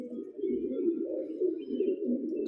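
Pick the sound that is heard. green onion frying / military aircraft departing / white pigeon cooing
white pigeon cooing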